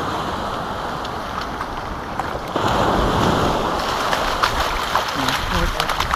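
Sea waves wash up the beach at Barton on Sea with a steady roaring rush that swells as a wave surges in, heard close by with wind buffeting the microphone.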